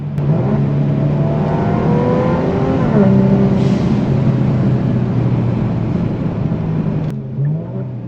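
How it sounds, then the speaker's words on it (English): A Kia Stinger's turbo engine with catless downpipes drones loudly nearby, its pitch stepping down in several downshifts before dropping off abruptly near the end. "these downshifts though, you could hear the downshifts now"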